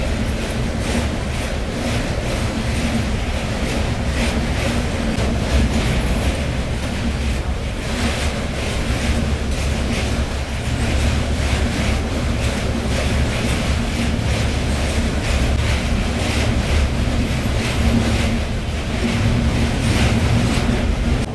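Banaras–New Delhi superfast express train rolling across the Malviya double-decker road-rail bridge over the river, a loud continuous rumble with rhythmic wheel clatter and rushing wind, heard from inside the train.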